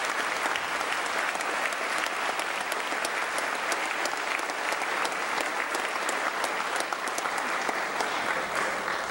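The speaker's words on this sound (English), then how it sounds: "Please join me in applauding Mrs. Bacco for doing a great job as the advisor." An auditorium audience at a junior honor society induction ceremony applauds the advisor, a sustained, even patter of many hands at moderate distance, continuous and unaccompanied by speech.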